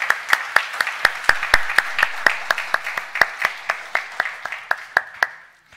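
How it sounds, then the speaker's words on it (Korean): A church congregation claps together for several seconds in a steady, even rhythm of sharp claps, loud and close in a reverberant hall, fading out at the end. "여러분들이 큰 응원과 격려의 박수를 한번."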